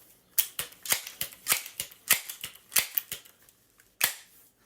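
A Crosman/Benjamin airgun pumped five times and fired through a TKO moderator gives a series of sharp, dry cracks, about a dozen at irregular spacing, fairly close and moderately loud, with no talk.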